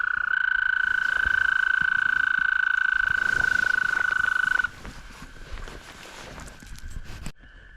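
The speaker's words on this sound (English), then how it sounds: "These frogs are almost hurting my ears." A loud, continuous chorus of frogs croaking near a fishing spot at dusk, a sustained high trilling drone that cuts off abruptly partway through, leaving quieter ambient outdoor noise and faint movement.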